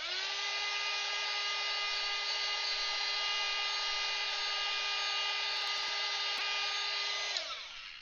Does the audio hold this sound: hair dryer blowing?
yes